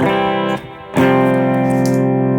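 Clean electric guitar through a JHS Notadümblë pedal: a chord rings out with sustained harmonics, then a dip and a second strummed chord that rings on.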